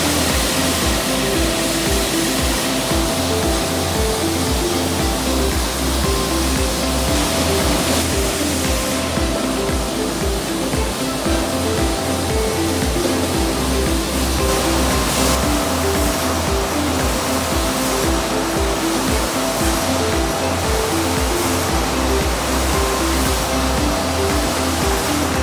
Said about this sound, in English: Here you see a fully automatic rotary type OPP labeling machine for BOP labels, equipped with 12 workstations.